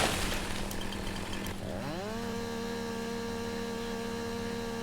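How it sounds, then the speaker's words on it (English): Tree felling in a farming video game, with noisy rustling and cracking up front, then a steady droning hum that bends upward and settles into a sustained tone, at moderate volume and with no talking. "we have the fantastic tree sounds now, which I absolutely love."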